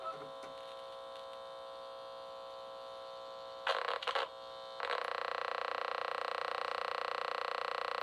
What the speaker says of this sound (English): You can get all kinds of really weird, strange sounds out of a neon bulb